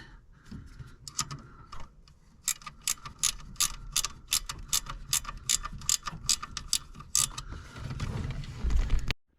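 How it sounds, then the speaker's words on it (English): A ratchet wrench clicking fast and repeatedly at close range during work on a Chevy Nova's starter relay, a crisp run of rhythmic metallic clicks that stops before a final scrape and thud. "Well, I can't get my ratchet to ratchet."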